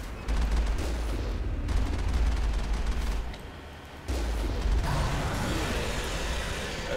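Mass Effect video game gunfire comes as sustained rapid bursts of shots. The loud rattling fire runs in long stretches, with one brief lull before it resumes.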